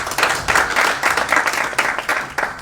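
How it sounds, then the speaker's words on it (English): An audience at a plenary gathering gives a round of applause for the speaker Ndindi Nyoro. The clapping is strong and comes in rhythmic pulses, fairly close, with no talk over it. "let's give a good round of applause to Ndindi"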